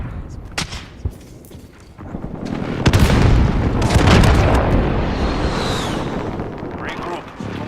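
Airstrike explosions in a video game, deep rumbling booms that swell in the middle and roll off slowly, with scattered sharper bangs and gunfire-like cracks around them and game voice lines mixed in.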